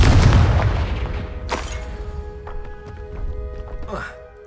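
Fire spell explosion in Hogwarts Legacy bursts with a loud, close boom at the start, fading into a rumbling tail and lighter magical crackles, with a voice speaking over it.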